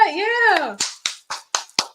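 A crowd in the background of a replayed recording claps in unison, five sharp, evenly spaced beats right after a brief spoken word.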